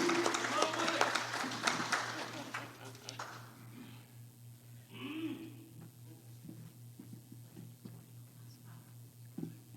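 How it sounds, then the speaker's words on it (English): An audience gives a brief round of applause at a school Black History Month presentation. The clapping is fairly loud for a few seconds, then thins into scattered claps, shuffling and murmured voices. "Let's give him a round of applause."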